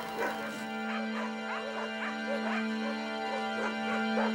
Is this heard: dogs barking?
yes